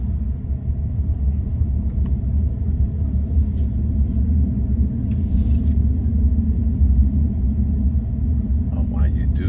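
A Tesla Cybertruck drives and coasts to a slower speed on its own, giving a steady low road rumble and hum from inside the cabin, with a few faint knocks over it.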